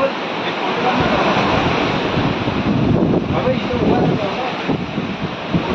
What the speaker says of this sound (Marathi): हे बघा समुद्राचं पाणी कसं येतंय एकदम.